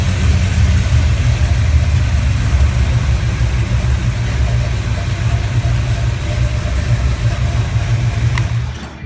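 An idling car engine with a 1973-or-newer GM three-wire internally regulated alternator charging, making a steady, low, close rumble that holds even for several seconds before a brief click near the end, with no voices.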